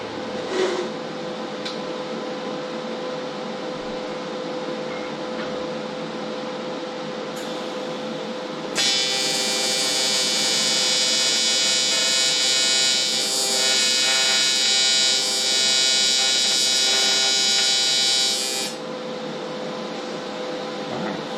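A PrimeWeld TIG225X AC/DC TIG welder tack welding a welding cabinet, giving a steady bright buzzing hiss for about ten seconds in the middle, with quieter shop hum before and after.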